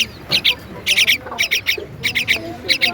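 A pet bird calls up close in quick, harsh bursts of squawky chirps, repeating every fraction of a second with short pauses between groups.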